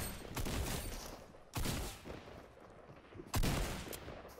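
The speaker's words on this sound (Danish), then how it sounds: "Og så skal jeg skyde den her." Gunfire in the video game Fortnite comes in three loud bursts spaced about two seconds apart, each a sharp blast fading into rattling decay.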